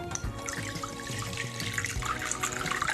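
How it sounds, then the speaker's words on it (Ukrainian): Tap water running steadily into a small kitchen bowl during rinsing, a continuous close splashing and gurgling flow with no voices over it. "Прямо до неї будемо змивати звичайною водою з-під крану."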